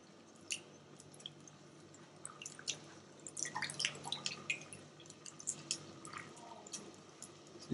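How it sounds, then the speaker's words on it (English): Layered vegetables are rinsed under running water, giving a soft, steady patter of drips and wet squishing as fingers work between the layers, fairly faint and close. "give this a wash, making sure you're getting in between all the layers here"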